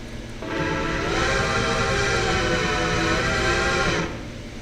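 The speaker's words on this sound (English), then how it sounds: "She is equipped with the exact whistle." A steam locomotive whistle sounds one long, loud blast of layered tones that swells in and fades out after a few seconds.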